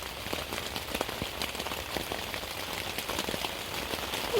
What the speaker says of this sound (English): Wait for this rain to pass.